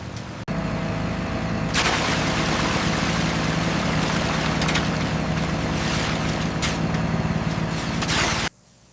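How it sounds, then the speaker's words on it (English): A pump engine runs steadily while a cabin section is lifted at a forest tree-cabin build site, a loud broadband mechanical drone that starts abruptly, holds for about eight seconds with occasional surges, then cuts off. "Got it, slowing the pump."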